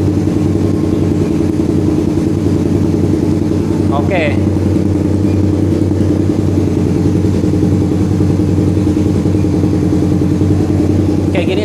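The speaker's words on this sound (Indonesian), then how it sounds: "bisa dibedain nanti sama suara knalpot yang pertama nih, sama yang ini ya." A motorcycle with an aftermarket exhaust idles loud and close with a deep, throbbing exhaust rumble, while a person speaks briefly over it.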